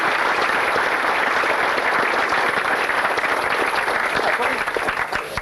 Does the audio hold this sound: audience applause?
yes